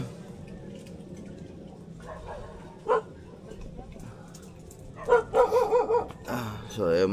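Several dogs bark in short bursts, a single yelp early on and then a louder cluster of barks toward the end, fairly close, with low background noise throughout.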